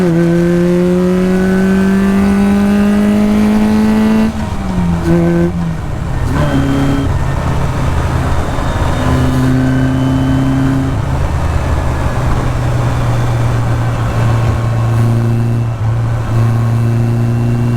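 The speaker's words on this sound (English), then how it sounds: "so I've revved it a little bit." A car engine revving hard during a night drive, loud and close, with rising and falling engine tones as it accelerates and shifts through gears.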